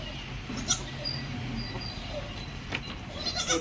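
A young goat kid bleats on a goat and sheep farm, a few short cries rising over steady low rumbling background noise, fairly close and moderately loud.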